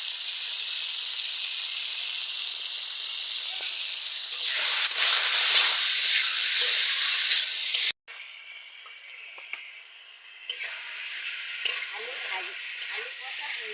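Potatoes seasoned with salt, turmeric and chili powder sizzle and fry steadily in a village kitchen pan, a continuous bright hiss that swells with stirring, cuts off briefly, then resumes a little softer.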